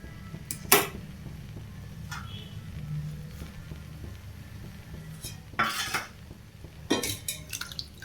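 A plate set down over a cooking pot of homemade ottu shavige noodles gives a few sharp clinks and clatters, one early and two more near the end, over a low steady background hum.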